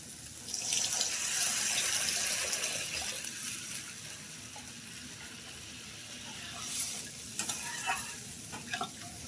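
Water poured into a pan of frying masala for gravy, a steady rushing pour and sizzle for several seconds, fading into softer bubbling with a few light clinks near the end, no voices.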